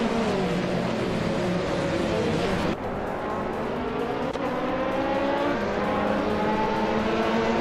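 Race cars in a racing video game roar along together at the start of a race, a steady engine drone with shifting revving pitches and one brief drop midway, loud and continuous.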